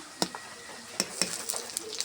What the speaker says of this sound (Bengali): সব পেঁয়াজ মশলা ভাজা হয়ে গেছে, এখন আদা রসুন বাটা দিয়ে দিলাম